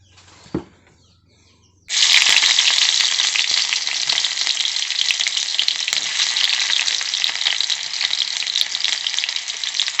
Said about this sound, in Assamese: ফাৰ্ষ্টতে বন্ধাকবিখিনি ভাজি লওঁ।